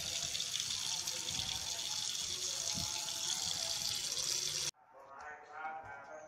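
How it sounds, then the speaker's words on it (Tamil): Tap water gushes steadily into a kitchen sink as it is drained with plenty of running water, a broad continuous rush that cuts off abruptly, leaving a quieter trickle. "இப்போ சிங்கில் நான் ட்ரெயின் பண்ண போகிறேன் நிறைய தண்ணி விட்டு."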